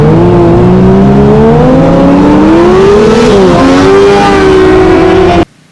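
A Kawasaki ZX-25R cafe racer's loud engine drones steadily with its pitch climbing and wavering as it revs, then cuts off abruptly near the end.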